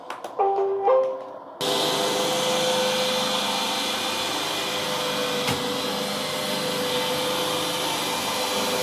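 iRobot Roomba robot vacuum starting with a few electronic beep tones, then running with a steady, loud whirring drone that holds constant, with one brief knock midway.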